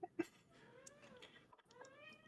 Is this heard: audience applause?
no